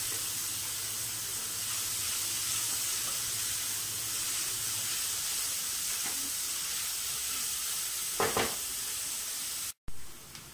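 Onions sauté in a pan for chicken cutlets until they turn translucent. A steady, soft sizzle and hiss runs throughout, with a couple of brief stirring scrapes and a short cut near the end, and there are no voices.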